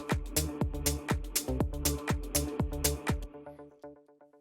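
An oriental house groove with a background texture loop layered in: steady four-on-the-floor kicks and crisp percussion over a fuller sustained tonal bed, the beat dropping out near the end while a soft melodic tail rings on.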